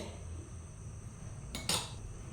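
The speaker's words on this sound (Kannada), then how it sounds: "ನಾನು ಇದನ್ನು ಕುಕ್ಕರಲ್ಲಿ ಹಾಕಿ ಬೇಯಿಸ್ತಾ ಇದ್ದೇನೆ" A pot and metal utensils clink twice in quick succession as mutton is added to a pressure cooker for mutton curry, the sharp metallic knocks standing out briefly over quiet kitchen background hiss.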